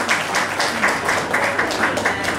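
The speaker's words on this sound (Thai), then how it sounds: "ขอปรบมือให้กับทั้งคู่ด้วยนะคะ" A crowd at a year-end party applauds a couple being invited up, a dense, continuous burst of clapping heard close and loud with no pauses.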